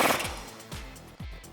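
Three sharp bursts from an impact gun driving a nut on with a 21mm socket during a 2009-2020 RAM 1500 rear leveling kit install, each burst spaced roughly half a second apart, loud and close.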